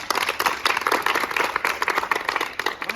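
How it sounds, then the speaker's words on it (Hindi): An audience at a push-up challenge award event breaks into dense, steady clapping, many hands beating fast and evenly, loud and close, with no voices over it. "तो बाकी दोनों लोगों के लिए जोरदार ताली।"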